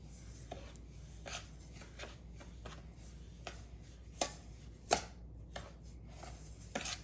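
Semolina batter stirred with curd in a bowl for a vegetable cake, giving soft scraping and clicking spoon strokes with a few sharper taps, quiet and close, with no one talking.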